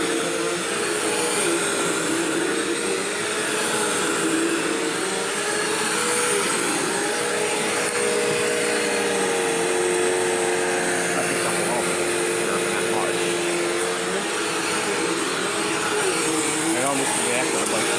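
A Bissell CleanView vacuum cleaner runs continuously on high-pile carpet as a steady, loud motor whine and airflow roar, with no voices over it.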